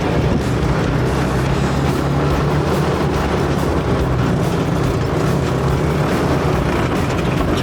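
A Tesla Cybertruck drives off-road, giving a loud, steady broadband rumble with constant rough road noise and no let-up or voices for the whole stretch.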